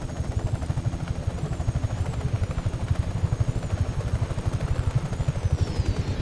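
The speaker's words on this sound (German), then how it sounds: "Komische Geräusche von diesem Helikopter." A helicopter in the video game Just Cause 3 gives a loud, rapid rhythmic rotor chop, a steady pulsing thump throughout with a faint high whine above it and no talk.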